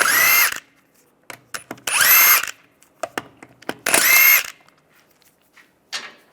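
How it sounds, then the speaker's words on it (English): A power tool with a 17mm socket spins lug nuts off a Volkswagen Beetle wheel in three loud whirring bursts, each under a second, separated by clicks and clanks of handling and a faint final whir. "Using a 17mm socket, take that out. And go around, take the other lug nuts off."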